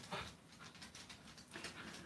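A puppy whimpers and pants close by, with soft high whines and quick breathy pants repeating through the moment.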